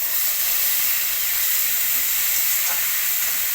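A paste of mango and ginger hits hot oil in a pan and sizzles as a steady, loud frying hiss, with a faint stir partway through and no talking.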